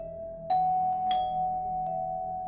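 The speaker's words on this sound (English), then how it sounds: "The bell was ringing and ringing" An electronic doorbell rings with a sustained tone, struck again in sharp repeated chimes that ring on steadily, loud and alone.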